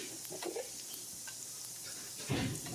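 Garlic dropped into a hot skillet, a soft steady sizzle and hiss that swells suddenly near the end as more hits the pan, fairly faint and close, with no talking.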